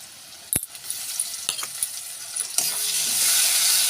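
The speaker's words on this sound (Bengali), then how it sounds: "পেঁয়াজটা লাল লাল করে ভাজা হয়ে গিয়েছে, ওর মধ্যে দিয়ে দেবো আদা রসুন বাটা পরিমাণ মতো।" Onions fried with ginger-garlic paste in a pan crackle and sizzle, with a sharp clink of a utensil early on, scraping stirs, and the sizzle swelling louder toward the end.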